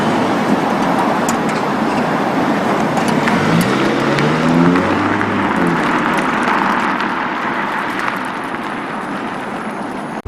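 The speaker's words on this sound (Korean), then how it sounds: "자동차 전용 도로에서 먼저 시승을 해보고 있습니다" Steady road and tire roar fills a Volvo S90 B6 AWD Inscription, a 300-horsepower sedan, cruising on an expressway, with a constant broadband hum and a faint engine drone throughout and no talking.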